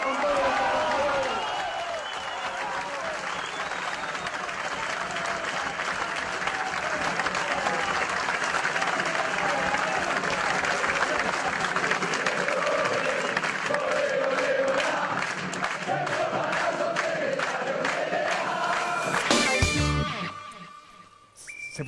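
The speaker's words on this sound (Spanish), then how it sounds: "Se pusieron a aplaudir los compañeros de Palazzo." A large audience of workers applauds in sustained, dense clapping with crowd noise, while voices speak over it before the clapping tapers off near the end.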